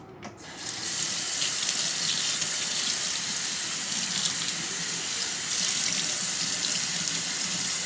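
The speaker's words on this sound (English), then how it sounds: "Rinse it out. Always rinse everything off before you use it, even if it is clean already." Tap water runs steadily into a mixing bowl in a kitchen sink as it is rinsed out, a close, continuous splashing rush that keeps going after a brief quieter start, with no talk over it.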